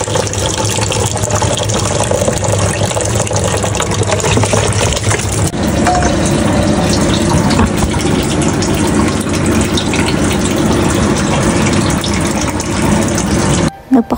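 Water runs steadily from a weak household filter, a constant loud gushing flow with a low motor-like hum beneath it, stopping abruptly at the end.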